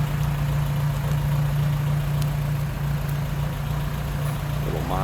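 A 1928 Willys Whippet Model 96 sedan with its 134 cubic inch inline-four idles steadily nearby, a constant low rumbling hum with no revving throughout.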